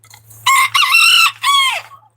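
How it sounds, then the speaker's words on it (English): A rooster crows loudly and close by among a small flock of chickens, one long cock-a-doodle-doo in a few rising and falling bursts. "They're the original 10 chickens."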